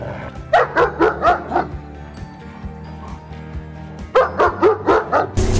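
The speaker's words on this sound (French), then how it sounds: "le chien que t'as dans les mains" A dog barks and yips in two quick rapid bursts of several sharp calls each, close and loud, with a quieter stretch between them.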